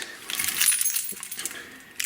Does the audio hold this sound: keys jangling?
yes